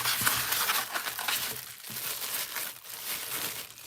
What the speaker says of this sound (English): Let's use our snips to cut this open.